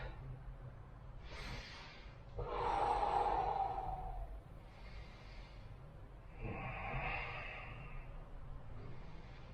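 Deep, slow breaths during a home cardio workout cool-down, three long audible breath cycles rising and falling over steady low background hum, close and moderately loud with no talking.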